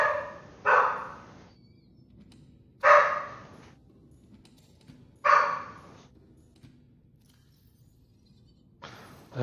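Dogs bark in separate loud single woofs spaced a few seconds apart, with near silence between each bark.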